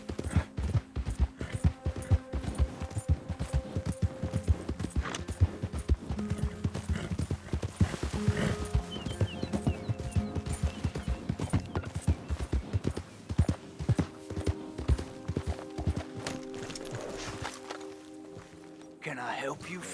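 A horse in Red Dead Redemption 2 trots steadily with continuous close clip-clop hoofbeats across the whole stretch, with talking throughout and a short neigh partway through.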